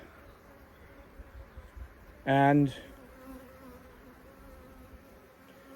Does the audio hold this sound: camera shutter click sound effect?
no